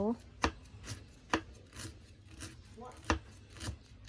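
A knife chops roasted galangal steadily on a wooden board, crisp close knocks roughly every half second, with faint background noise and no talking.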